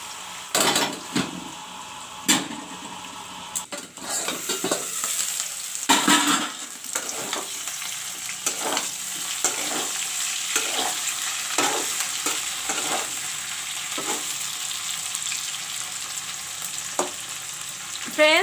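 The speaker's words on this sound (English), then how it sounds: "Friends, the potato also is fried up." Potatoes fry in oil in a karai, a steady sizzle running throughout with repeated scraping and clinking strokes of a spatula stirring the pieces.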